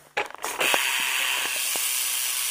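Loud, fast ratchet buzz from a Shadow Rant rear hub laced to a Primo Balance rim on a BMX bike, the pawls clicking steadily after a few quicker opening ticks, close up, with no talking.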